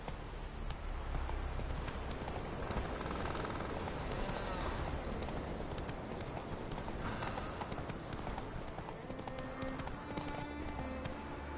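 Roach the horse gallops in The Witcher 3, with rapid, steady, close hoofbeats running throughout and voices heard faintly underneath.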